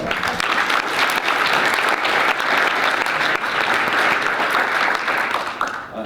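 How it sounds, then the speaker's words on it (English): Loud, sustained applause for the judges from the audience at a state final pitch competition, a thick continuous wash of clapping that holds steady before tapering slightly near the end. "let's give them a round of applause as well"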